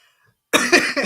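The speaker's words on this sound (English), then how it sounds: "I'm gonna cough in your face." A single harsh, close cough bursts out after a moment of near silence, loud and raspy, trailing into a second rough hack.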